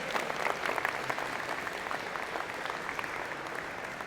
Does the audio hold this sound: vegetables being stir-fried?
no